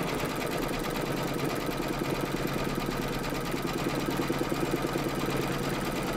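An embroidery machine stitches an appliqué round, giving off a steady, fast mechanical whirring and needle chatter that runs without a break, close and even.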